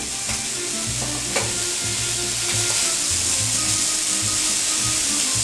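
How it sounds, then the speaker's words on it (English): Loud, steady sizzling of pork frying in a hot pan, with occasional scraping and stirring sounds. "You may not be able to hear it because of the volume of the frying"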